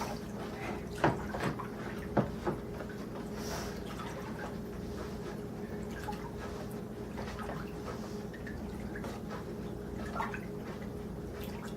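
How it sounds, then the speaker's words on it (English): Sugar and salt brine for smoking salmon being stirred: soft sloshing and swirling liquid with a few light clinks and splashes, a steady hum underneath, fairly close and quiet. "Trying to get that sugar and salt all dissolved real good."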